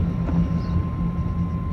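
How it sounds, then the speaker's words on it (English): A steady low mechanical drone of data centers in Northern Virginia, with a constant hum and a thin high tone running through it, faint bird chirps barely rising above, continuous and fairly distant. "hidden behind the drone of the data centers, there is birdsong"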